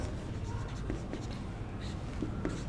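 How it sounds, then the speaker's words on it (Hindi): Chalk or marker scratches and taps on a board during a Hindi-medium Class 11 physics lecture on centripetal force, short strokes close by over a steady room hum, with faint speech in the background. "ऐसे मैं लिख देता हूँ थोड़ा सा"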